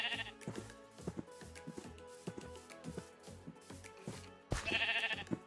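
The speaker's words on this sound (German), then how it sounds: "da kommen schon zwei Schafe mit." Sheep bleating in the video game Minecraft, several short bleats over a busy backdrop of game music and sound effects, with a louder, brighter bleat near the end.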